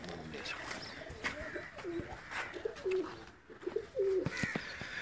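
Pigeons in a rooftop cage coo in repeated soft, throaty calls, close and clear, with a few chirps, while people talk in the background.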